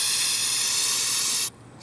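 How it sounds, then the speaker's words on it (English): Mass airflow sensor cleaner hisses from an aerosol can in one continuous close, loud spray lasting about a second and a half before cutting off. "So with our mass airflow sensor cleaner ready to go, you're going to spray this a lot."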